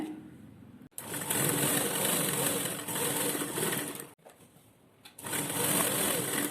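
A sewing machine runs in long continuous bursts while stitching a lined jacket, with two brief pauses between runs, close and steady.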